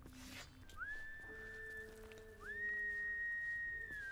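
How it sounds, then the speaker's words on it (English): A character in the video game Baldur's Gate 3 whistles two long, clear, steady tones with a rising start to each, close and fairly quiet over faint game ambience. "I didn't have my loot equipped, so it made me whistle."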